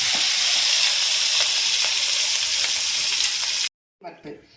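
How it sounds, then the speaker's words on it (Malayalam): Prawns fry in hot coconut oil, a loud, steady sizzle with faint stirring knocks that cuts off abruptly near the end, followed by a few brief softer sounds. "ആദ്യം നമ്മൾ ചെമ്മീൻ ഒന്ന് വറുത്തെടുക്കണം"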